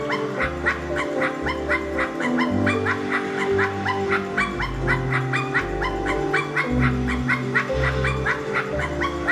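Sparky, a small dog in the game I Am Dead, yaps in quick repeated high barks with whimpering yips over a steady rhythmic game music bed, fairly close and continuous throughout.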